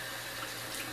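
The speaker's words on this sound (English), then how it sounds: "Cold water rinse." Cold tap water runs steadily into a bathroom sink for a rinse after shaving, a soft, even hiss of flowing water with no pauses.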